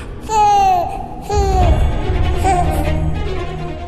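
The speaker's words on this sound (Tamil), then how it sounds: "ஒரு குழந்தையோட சத்தம்" A baby cries with rising, wavering wails, loud and close, over a low rumbling background.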